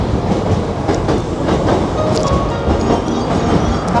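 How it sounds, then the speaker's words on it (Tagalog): A train rumbles loudly and steadily at Nakatsu Station, wheels clattering on the rails as it arrives, close and continuous with no talking. "Ayan yung tren."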